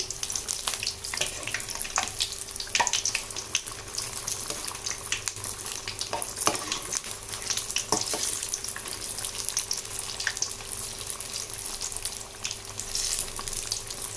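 Steady crackling sizzle of egg bondas deep frying in hot oil, continuous and fairly loud with scattered pops, no voices.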